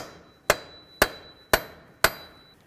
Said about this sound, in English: continue on with a hammer and a punch